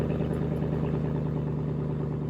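A Chevrolet Silverado pickup truck engine with a cold air intake idles steadily nearby after a cold start, a low rumbling drone with a fast even chug and faint clatter, running alone without any voices.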